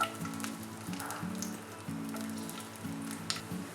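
Garlic frying in hot oil with cinnamon, cloves and cardamom, giving a faint, steady sizzle under a low continuous hum.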